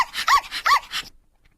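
A dog barks as a sound effect, giving three quick, sharp barks in an even rhythm, loud and close, followed by silence.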